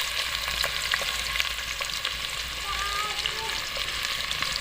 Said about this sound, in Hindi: इसके अंदर डाल देते हैं 1 बड़े साइज की प्याज कटी।